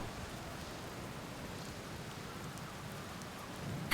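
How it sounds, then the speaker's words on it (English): Steady rain with a stormy wash falls in the exploration game Outer Wilds, a dense even hiss that holds at constant loudness throughout with no voices over it. "The peaceful sound of rain and storm."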